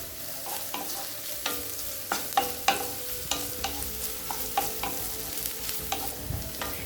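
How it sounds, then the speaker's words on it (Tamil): Chopped vegetables for roadside-style chicken fried rice sauté over a high flame, with a steady sizzle broken by repeated sharp metal spatula scrapes and clacks against the pan in an uneven stirring rhythm. "ஹை ஃப்ளேம்லேயே வச்சு நல்லா வதக்கிக்கோங்க"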